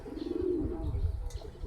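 A young racing pigeon left outside its coop gives a close, soft rolling coo that swells and fades, with faint background rustle and no speech.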